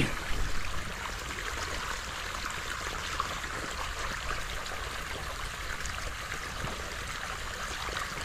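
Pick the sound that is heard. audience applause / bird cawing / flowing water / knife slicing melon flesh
flowing water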